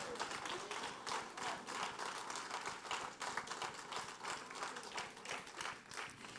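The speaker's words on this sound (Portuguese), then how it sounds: "dê um aplauso a Ele bem forte" Church congregation applauding hard during a worship service, dense steady clapping from many hands filling the room throughout, with faint voices underneath.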